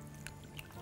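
Pasta cooking water poured into a cream sauce with a stock cube in a pan, a faint, steady trickle with small drips, close and quiet.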